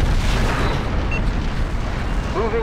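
A Romulan vessel blows apart in the Star Trek Legacy space game, a loud, sustained booming rumble with a few faint tonal blips overhead.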